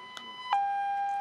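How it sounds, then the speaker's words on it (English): An ambulance siren in a Nollywood film scene starts suddenly and holds a steady, piercing tone after a few faint knocks. "Is that not the sound of an ambulance?"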